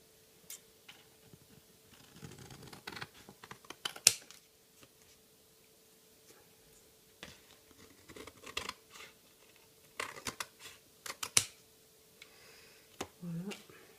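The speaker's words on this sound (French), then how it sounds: "Je vais juste couper les parties ici là, comme ça qui" Scissors snip paper for a canvas craft in short irregular clusters of close, crisp cuts separated by quiet pauses, with soft handling noises in between.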